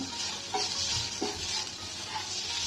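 Grated fresh coconut sautéed with roasted barnyard millet in a pan for a fasting kheer, giving a soft steady sizzle with a few light scraping stirs, close and fairly quiet, with no talk.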